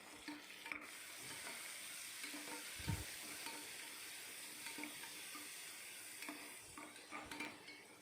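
Black urad dal rice being stirred in a pot, with soft scraping and stirring sounds over a steady sizzling, bubbling background, and a dull thump near the middle.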